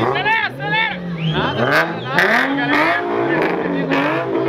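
A Nissan 370Z with a loud aftermarket exhaust revs and accelerates in a city street, its rising and falling roar close by and mixed with excited voices and crowd chatter.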